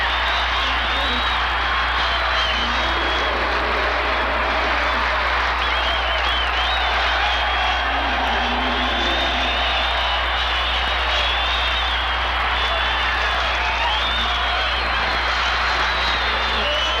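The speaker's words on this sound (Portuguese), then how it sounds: "Quando ele vence, a multidão vai à loucura." A large crowd roars and cheers without letup as a seven-ton champion elephant wins a tug-of-war against more than 100 men, the loud, dense crowd noise filling the whole stretch, with a low steady hum underneath.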